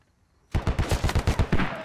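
Rapid automatic gunfire in the tactical shooter game Squad during a battle where mortars are being fired, a sudden burst of roughly ten sharp, evenly spaced shots after half a second of quiet, loud and close.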